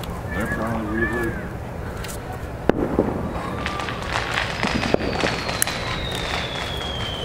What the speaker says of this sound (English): Sounds like people are doing some poppers and stuff.